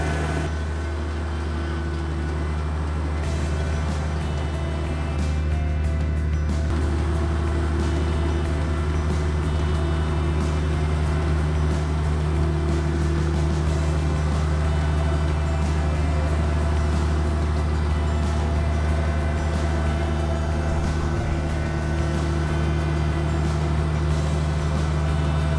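A Dutch-built Holaris front harvester lifting two 1.5-metre onion beds drones with a steady, loud, unbroken mechanical hum and engine rumble throughout, close and without speech.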